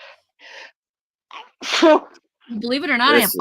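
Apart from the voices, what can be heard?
a woman sneezing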